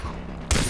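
Gunfire in the video game Far Cry 3: a single sudden loud burst near the end, standing alone after a quiet stretch.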